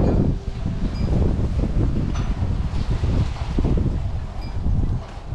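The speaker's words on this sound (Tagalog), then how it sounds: "Medyo mahangin dito ngayon." Steady wind gusting outdoors in a small backyard, roaring into the microphone with a low rumble throughout, rising and falling slightly in strength.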